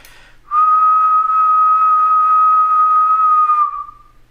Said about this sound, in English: I'm going to hit the record button and I'm going to whistle